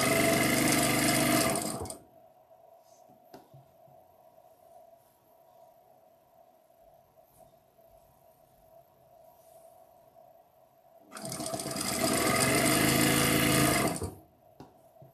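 A sewing machine stitches fabric pieces together, whirring loudly in two bursts at the start and end, with a quiet stretch between them and no talking.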